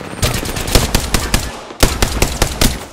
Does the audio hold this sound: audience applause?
no